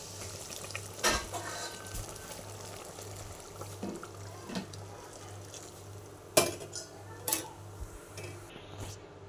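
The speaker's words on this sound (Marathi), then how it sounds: "तर फ्रेंड असं हलवून घ्यायचं, चांगलं उकळी असतोपर्यंत" Shipi amti thickened with flour being stirred in a pot as it comes to a boil, with soft scraping and sloshing, a few sharper clinks of the spoon against the pot, and a steady low hum underneath.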